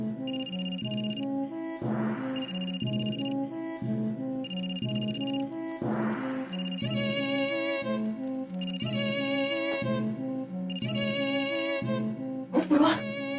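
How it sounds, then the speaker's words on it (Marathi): A mobile phone ringtone plays indoors during a Marathi TV drama, its repeating electronic melody pattern cycling several times over a steady music-like bed, fairly loud and continuous. "पूर्वाचो फोन वाजता."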